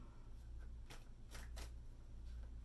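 Tarot cards are shuffled close by in a few soft, quick riffling bursts over a low steady hum, faint and brief.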